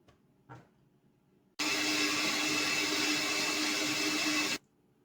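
A blender whirs loudly at steady high speed for about three seconds while blending a kiwi and cucumber smoothie, starting and stopping abruptly after a faint knock.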